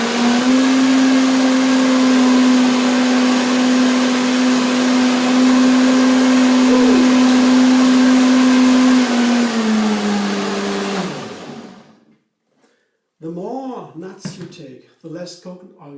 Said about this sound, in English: So now I blend it again